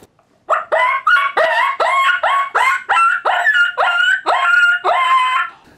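A Mr. Mouthy mouth call imitating a hurt coyote pup's distress cries, a rapid series of about a dozen loud, close, high-pitched yelping whines in steady rhythm, heard alone.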